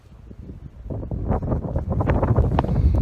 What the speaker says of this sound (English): get out of this wind just a little bit